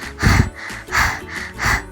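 A voice imitating the heavy panting of someone out of breath after running: three loud, forceful breathy huffs in an even rhythm, close to the microphone.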